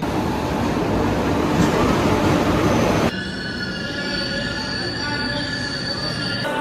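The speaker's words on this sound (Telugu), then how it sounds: "ఫైనల్గా అయితే మన ట్రైన్ అయితే వచ్చేసింది" Train wheels squealing loudly as a passenger train arrives at a station, a sustained metallic screech over steady rumbling rail noise, with no voices.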